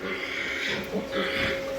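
Piglets grunt close by in a farm pen, a short run of low, soft, overlapping grunts and snuffles under a faint steady hum.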